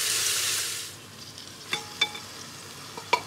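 Garlic paste and onions sauté in a pan for chicken mandi: a loud hiss of sizzling eases into a quieter fry, punctuated by three or four sharp spoon clinks against the pan.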